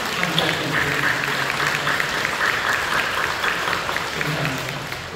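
Steady applause from a church worship congregation, dense and continuous across the clip at moderate distance, fading slightly at the end.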